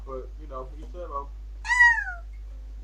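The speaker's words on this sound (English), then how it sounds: "Oh, that's my cat." A pet cat gives one clear, drawn-out meow close to the microphone, following a few short spoken words.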